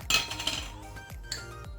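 Metal spoon clinking against a bowl or jar while acacia honey is added, a few bright clinks and taps in quick succession, close and fairly quiet, with no talking.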